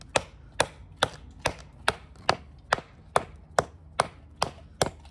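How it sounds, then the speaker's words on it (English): Small $18 Ozark Trail knife chopping into an old hard wooden branch outdoors: eleven sharp, evenly spaced woody thunks about every half second, close and distinct, with no talking. "Let's see how it does chopping this little log in half."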